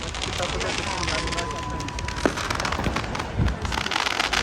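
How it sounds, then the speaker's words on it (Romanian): New Year's fireworks at the Eiffel Tower in Paris crackle and pop in a dense, continuous rumble outdoors, with scattered sharper bursts over wind and crowd noise. "Măcar să filmez artificiile astea obosite."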